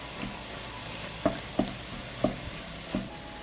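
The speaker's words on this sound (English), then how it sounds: "I fry the meat until done." Minced meat frying in oil with onion and garlic in a pan gives a steady close sizzle, punctuated by four sharp spatula knocks against the pan at uneven intervals.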